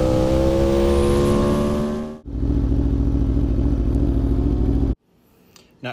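An Aprilia motorcycle lapping a race track, its loud engine droning steadily near the mic, briefly dipping then surging again before cutting off abruptly near the end.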